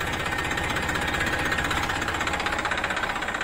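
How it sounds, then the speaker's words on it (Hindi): A tractor fitted with a special folding lift harrow runs close by with a loud, rapid, knocking diesel chug that holds steady throughout, with no talk. "ट्रैक्टर को स्टार्ट कर लेंगे"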